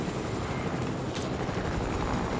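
Steady whirring drone of a helicopter in the video game Fortnite, loud and constant throughout with no voices over it.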